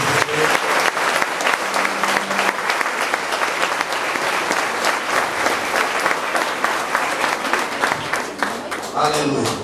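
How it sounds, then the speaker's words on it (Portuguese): A church congregation at a baptism service claps loudly and continuously, dense crowd applause with a brief voice and murmur mixed in near the start. "Pode aplaudir Jesus."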